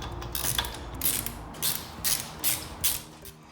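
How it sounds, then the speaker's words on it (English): A ratchet wrench clicks in repeated short bursts as a Milenco Wraith wheel lock stud is wound in and torqued tight, with quick metallic rasps spaced about half a second apart, close and fairly quiet. "The stud we're going to wind back in and going to make sure that it's torqued up to the relevant torque."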